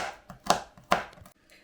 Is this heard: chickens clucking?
no